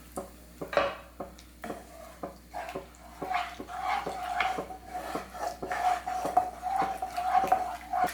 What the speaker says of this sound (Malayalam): ഒരു വിസ്ക് ഉപയോഗിച്ചിട്ട് നന്നായിട്ടൊന്ന് മിക്സ് ചെയ്ത് കൊടുത്താൽ മതി